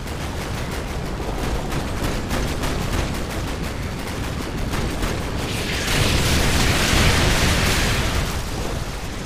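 Artillery barrage in Call of Duty: Modern Warfare 2: loud, continuous rumbling explosions and dense gunfire-like bursts, building to a heavier, brighter blast wash near the end, with no voices.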